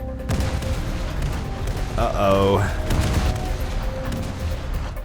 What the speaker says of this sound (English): So we've got all of our guns on target this time. They're high-angle guns.